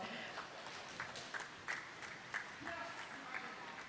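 Scattered clapping and cheers from spectators at a swimming championships, with distinct sharp claps and whoops punctuating a murmuring background in a large echoing pool hall, moderately quiet overall.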